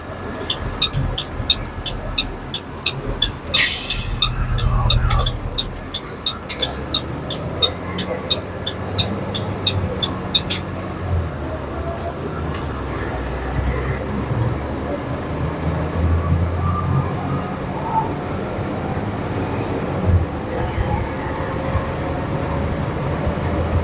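The Cummins 6.7 turbo diesel of a 2017 International 7300 bucket truck rumbles at a steady low idle inside the cab. A rapid clicking ticks over it early on, then fades out.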